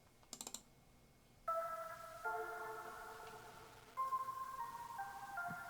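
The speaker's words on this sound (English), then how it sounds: "Very kind of lo-fi, old school piano with a lot of reverb on it." Soft, muffled piano chords sustain and blur into each other in a washed-out, echoing haze, preceded by a few quick faint taps.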